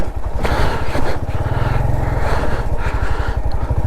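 A motorcycle engine runs close and loud on an off-road approach to a hillside temple in Azad Kashmir, a steady throbbing putter that holds throughout the ride.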